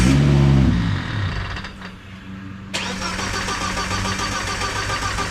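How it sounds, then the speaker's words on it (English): A car engine being cranked for a turbo test with the fuel pump fuse pulled, a loud low whirring churn that fades briefly then resumes steadily, droning on without catching or revving. "We're gonna crank it a couple times, make sure it's running all right"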